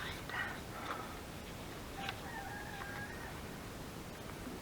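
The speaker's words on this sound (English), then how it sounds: "The chickens just talking." Backyard chickens cluck and crow: several short clucks and a drawn-out crowing call, moderately loud over a constant hiss of outdoor background noise.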